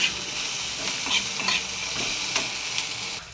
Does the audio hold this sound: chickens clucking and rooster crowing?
no